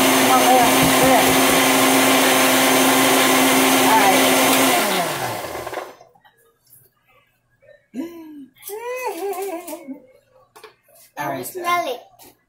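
An electric mixer whirs loudly and steadily through a batch of coconut lotion, then winds down and stops, after which people talk, including a voice.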